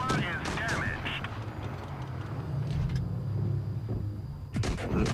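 Tank cannon and gunfire in an armored warfare video game, with heavy booming shots near the start and end, a low rumbling engine drone between them, and someone talking over it.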